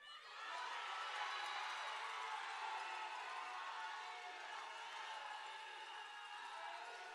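A pageant audience cheers and shouts in a continuous, distant-sounding roar that holds steady for several seconds with no clear individual voices.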